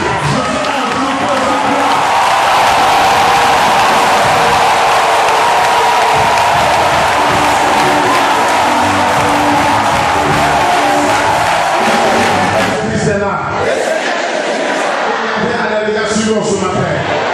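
A church congregation at a Pentecost gathering in Abobo, Abidjan, cheers and acclaims loudly, a dense sustained roar of voices, whoops and shouts filling the space, easing slightly near the end as individual voices break through.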